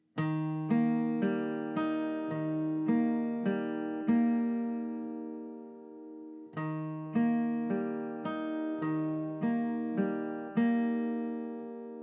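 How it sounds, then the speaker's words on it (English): Acoustic guitar fingerpicking pattern from a song, a slow repeating pattern of plucked notes ringing over steady bass, played twice with a brief pause between the runs. "that is the finger picking pattern that you are playing throughout the entire song"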